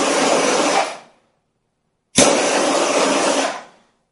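Heat gun blowing steadily to shrink loose covering material on an aircraft tail's bottom side, two loud sustained bursts of rushing air about a second and a half apart with a silent gap between.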